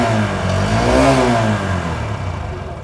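A 2023 Hero Glamour Xtec 125 cc motorcycle is revved, its exhaust note swelling to a peak and easing back down. The engine is loud and close, steady throughout, with no talking.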